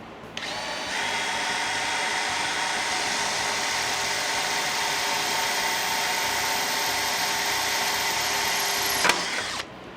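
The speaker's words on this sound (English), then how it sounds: "to drill a hole." A power drill whines steadily for about eight seconds while drilling a hole in a Mustang GT, a loud, sustained high-pitched motor tone that starts abruptly and cuts off near the end.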